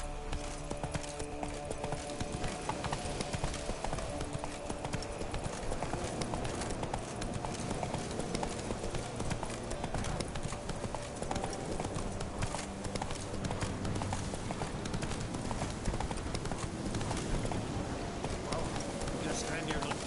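The horse Roach trots in The Witcher 3, its dense, rhythmic clip-clop of hooves continuous and close, with music and a voice talking underneath.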